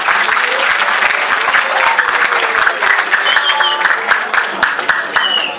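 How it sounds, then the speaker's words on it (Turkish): Strong, steady applause from a seated audience welcomes a speaker to the stage at a literary workshop final program, loud and continuous throughout with a few faint voices mixed in. "kuvvetli alkışlarla sahneye davet"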